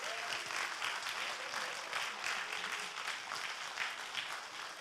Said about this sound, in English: Please give him a big round of applause again